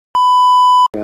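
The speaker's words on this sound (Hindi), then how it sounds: "अभी यार मेरे मोबाइल की बैटरी लो है" A mobile phone gives a single low-battery warning beep, a clean, loud electronic tone lasting under a second that ends abruptly, followed by a brief muffled sound.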